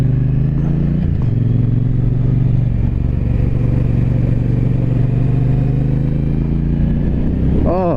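A 2023 Triumph Bonneville T120 Chrome Edition motorcycle rides through right-hand corners, its engine holding a steady low drone throughout, with a brief rise in pitch near the end.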